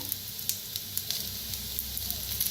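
Grated coconut and peanuts frying in oil with onion, a steady soft sizzle with light crackling pops throughout, close but fairly quiet, no voices.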